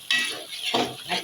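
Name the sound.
sautéing onions in a pan for mutton curry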